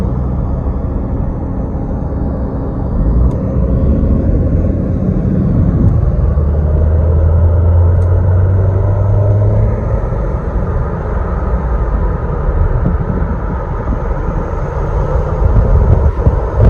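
A 2003 Toyota Celica GT with a P0420 catalytic converter fault is driving. Its engine and road noise make a loud, steady rumble from inside the car throughout.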